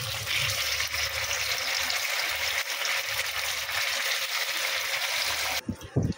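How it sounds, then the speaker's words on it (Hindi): Stuffed mutton cheese rolls fry in a pan of hot oil, giving a steady, close bubbling sizzle that runs continuously before cutting off abruptly near the end, followed by a few light clinks. "पैन में तेल गरम हो चुका है और जो रोल के स्टफिंग करके स्टफ करके रखा था वो हम अभी तेल में डालेंगे"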